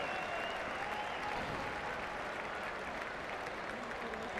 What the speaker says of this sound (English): receiving just applause from the crowd on the main grandstand